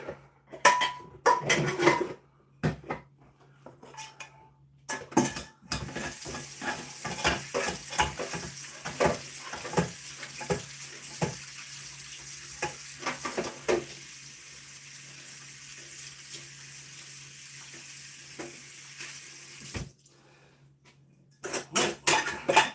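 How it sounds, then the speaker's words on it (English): Pots and pans clatter and scrape as they are scrubbed clean in a home kitchen while cooking steak and stilton pie, with running tap water, repeated metallic knocks and a long stretch of rinsing, no talk. "That's most of me pots all cleaned up."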